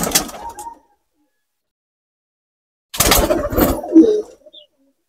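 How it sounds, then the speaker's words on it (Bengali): A red pari pigeon coos close by in two short bursts, one at the very start and a longer one after a pause of silence. "আমার একটা লাল পারি কবুতর"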